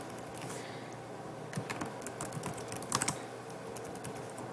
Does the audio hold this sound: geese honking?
no